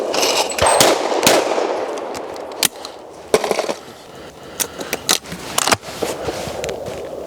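ATA shotgun fired at clay targets outdoors, several sharp loud reports spaced a second or so apart, with rustling and clatter in between and no talk.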